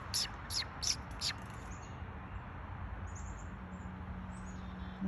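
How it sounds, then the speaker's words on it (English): Small songbirds chirp in trees on a quiet evening. A quick run of sharp high chirps comes first, then fainter calls from farther away, over a steady low outdoor rumble. "There's a bunch of birds in these trees."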